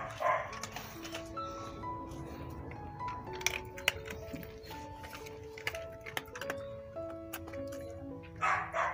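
A small dog barks in short bursts at moderate distance, with faint speech and clinking in the background.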